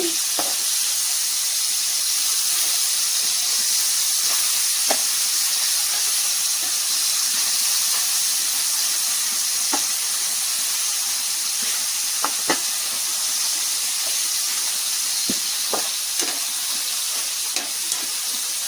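Dried fish (endu chepalu) frying in oil in a pan, a steady broad sizzle and hiss running throughout with occasional sharp crackles and pops, close and alone with no talk.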